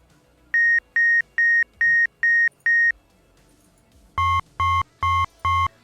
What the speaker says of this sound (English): Sci-fi beep.